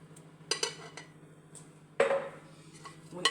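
A spoon stirs Egyptian mahshi stuffing, seasoned with salt and chili harissa, in a bowl, giving a few bright clinks and scrapes against the bowl with short quiet gaps, close by.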